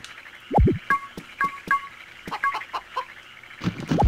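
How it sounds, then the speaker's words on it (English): A cartoon chicken in the Harvest Moon: Magical Melody video game clucks several times in short, bright bursts at close range. Soft, low vocal sounds come in and out around the clucks over a steady game background. "Cluck, cluck, cluck."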